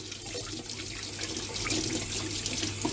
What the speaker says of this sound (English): Let me wash my hands, or at least rinse them.